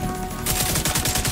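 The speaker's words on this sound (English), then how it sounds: "I hear gunfire." Gunfire erupts in Tom Clancy's The Division 2 at Wall Street, a loud rapid automatic burst of shots firing in a fast regular rhythm after a brief moment of muffled background noise.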